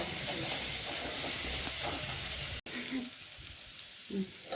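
Radish sizzles steadily in a hot pan with a bright, constant hiss, briefly interrupted once, while faint clinks sound near the end.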